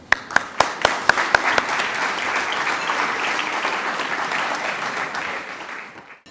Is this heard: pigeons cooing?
no